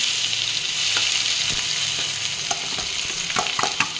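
Red chillies fry in hot oil in a pan alongside cloves, a steady crackling sizzle with occasional sharper pops and stirring scrapes, close and continuous.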